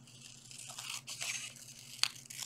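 Scissors cut through red paper along a long rectangle, producing a quiet, continuous crisp snipping and rustling with a sharper crunch near the end, close and faint with no talking.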